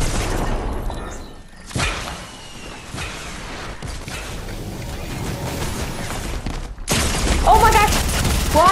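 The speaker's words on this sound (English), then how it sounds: "This is my favorite gun in the game." Rapid bursts of video game gunfire from a favorite weapon, loud and dense with mechanical clicks and whooshes, continuing steadily before a sharper, louder burst near the end.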